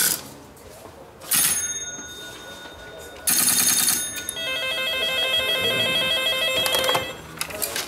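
An antique telephone at an engine and tractor show rings in loud repeated metallic bell bursts after a number is dialed, with mechanical clicks and rattles between the rings and no talking.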